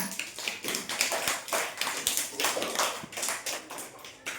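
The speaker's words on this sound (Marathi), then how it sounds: "टाळ्या वाजवायच्या तुम्ही टाळ्या वाजवा" Children clap their hands in a brisk, fairly even rhythm, about two to three claps a second, close by and sustained, with no talking.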